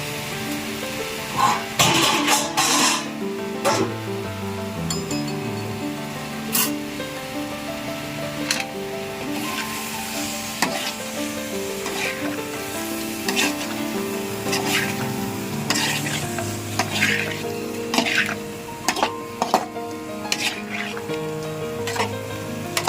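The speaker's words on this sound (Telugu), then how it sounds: "ఇప్పుడైతే మనము సైడ్గా మ్యారినేట్ చేసుకుని పెట్టుకున్న రొయ్యలను అయితే ఇందులో వేసుకోవాలి" Marinated prawns frying in a pan for a prawn curry, a continuous sizzle broken by sharp crackles, spatters and the scrape of stirring, with a low hum underneath.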